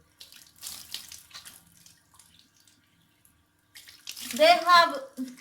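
Tap water running to rinse off a facial cleanser, heard as short splashing bursts near the start and again at the end, with a voice speaking toward the end.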